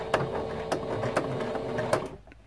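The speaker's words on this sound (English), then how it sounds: "We're going to sew halfway down and do some back stitches to lock everything in place." A sewing machine runs back stitches on a T-shirt quilt, a rapid mechanical whir punctuated by sharp periodic clicks, close and steady before stopping abruptly near the end.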